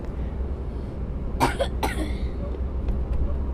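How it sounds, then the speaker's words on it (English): A sick child coughs on a moving bus, a couple of sharp close coughs over the constant low rumble of the engine and road, followed by softer faint throat sounds. "this child behind me keeps coughing."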